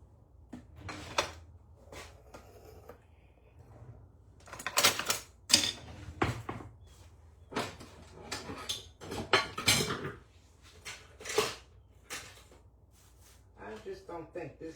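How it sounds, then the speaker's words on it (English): Vegetables being chopped with a knife on a cutting board for meatloaf, irregular sharp chopping knocks in clusters, close, with a voice talking between cuts. "We're going to cut up our veggies."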